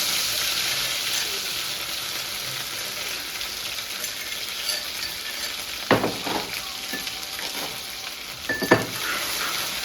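Onions fry in a pan with a continuous crackling sizzle close by, broken by several spoon taps and scrapes from stirring in the second half.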